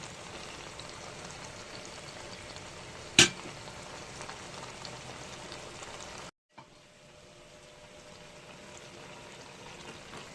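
Spinach cooks in a covered pan, giving off a faint, steady frying hiss that runs on unbroken, cut by one sharp tick and a brief drop before the quieter simmer resumes.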